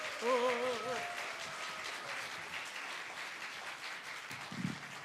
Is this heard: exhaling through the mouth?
no